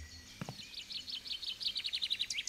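Summer birdsong from a beach club game: a bird sings a quick run of bright repeated chirps that speed up and grow louder, with a faint low knock near the start.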